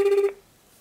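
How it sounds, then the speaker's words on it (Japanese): A telephone placing a call to a broadcaster's main switchboard gives one short electronic tone that cuts off after a fraction of a second into near silence. "これから NHK 代表電話の方に電話をかけてみたいと思います。"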